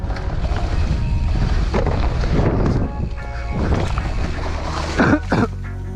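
Wind buffeting a microphone at an outdoor dirt bike track, a loud continuous rumbling roar with gusty surges throughout and a few brief louder bumps near the end.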